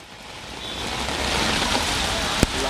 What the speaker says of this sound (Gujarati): અમદાવાદમાં વરસાદ શરૂ થઈ ગયો છે